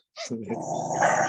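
Dogs growl and yip close by in a short burst, a rising snarling rumble that grows louder toward the end, with a brief sharp bark-like onset.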